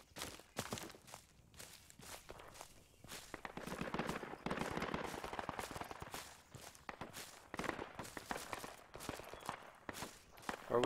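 Project Reality battlefield gunfire crackles in scattered bursts and pops, some near and some farther off, over constant low rustling and movement.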